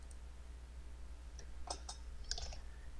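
Mouse clicks made while saving an Excel workbook through File, Save As and Browse: a few quick, light clicks clustered in the second half, faint over a low steady hum.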